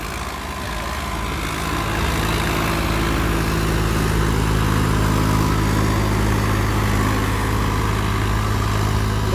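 A Swaraj 963 4x4 60 HP tractor runs at a field demonstration. Its engine gives a loud, steady, close low-pitched drone that builds slightly in the first seconds and then holds even, with no voices.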